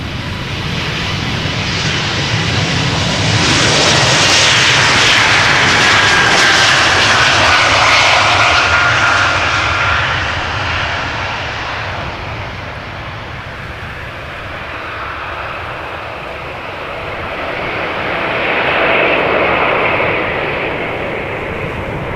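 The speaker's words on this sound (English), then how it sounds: "So that was E2 Embraer cheating and skipping the line." An Embraer E2 jet airliner departs Amsterdam Schiphol Airport, its loud engine roar swelling close by, easing as it climbs away, then rising again in a steady broadband rumble with no talk.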